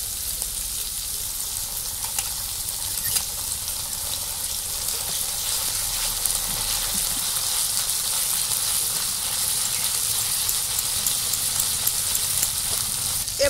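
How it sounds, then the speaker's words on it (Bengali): Ginger-garlic paste dropped into hot ghee and oil for masala rice, a bright continuous hissing sizzle that holds steady and close throughout. "এই তেলের মধ্যে দিয়ে দেবো, ঘিয়ের মধ্যে দিয়ে দেবো বাটা মশলা,"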